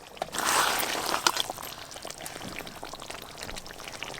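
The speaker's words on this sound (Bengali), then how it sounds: "আলুর দম হয়ে গেছে, এবার ঢেলে নেব।" Finished Kashmiri aloo dum, a potato curry, poured out of the pan in a short wet splash and slide, then light scrapes and drips tapering off quietly.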